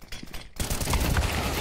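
After a brief quiet moment, a dense burst of rapid gunfire erupts in Counter-Strike 2 and keeps rattling loudly to the end, with no talking over it.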